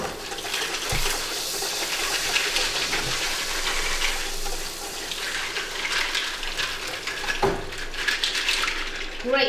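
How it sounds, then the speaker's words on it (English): Fresh mussels are rinsed under a running cold kitchen tap for moules marinière. The water gushes loudly and steadily for several seconds, broken by a couple of dull knocks of shells or a pan against the sink. "run those under the coal tap, chef, over there. Right. Okay. Just to wash off any grit."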